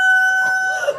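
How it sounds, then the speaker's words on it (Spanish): A single rooster crow rings out close and loud, a sustained tonal call that wavers and breaks at the end. "Y yo les voy a contar cómo sonaba mi gallo."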